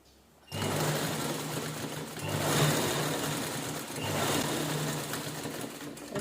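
A sewing machine stitches lace folded along the edge of a fabric saree cover, starting abruptly after a brief quiet moment and then running steadily and close for several seconds with slight speed swells.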